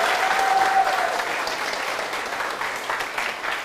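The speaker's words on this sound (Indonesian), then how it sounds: "Tepuk tangan untuk Universitas Patimura." Audience applause at an open mic comedy show in Indonesia, a steady wash of clapping that stays loud and even throughout, with no voices over it.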